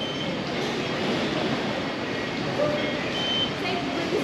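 A Putrajaya Line MRT metro train, heard from inside as it travels along the line, with a steady rumble and faint wheel squeals, and people talking quietly beneath it.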